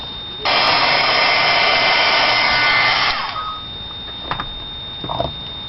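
A handheld dryer blows loud and close over a painted pumpkin stamp for about three seconds, then cuts off, leaving quiet room tone with a few faint clicks and handling sounds.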